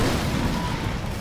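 Rapid weapon fire from the Left 4 Dead 2 zombie shooter, a dense, steady barrage of shots blending into a continuous rumbling roar for the whole moment, moderately loud with no talk.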